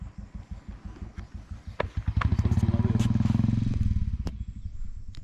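A motorcycle ridden on a road at Nagarkot, its engine thumping in rapid, steady pulses that swell louder as it revs mid-ride, close by, with voices faintly in the background.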